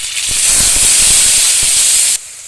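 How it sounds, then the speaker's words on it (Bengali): Whole spices and ground spice paste hit hot oil in a wok-style pan with a loud, hissing sizzle that holds steady for about two seconds before dropping off sharply. "ওই তেলের মধ্যে দিয়ে দেবো ফোড়ন আর বেটে রাখা মশলা"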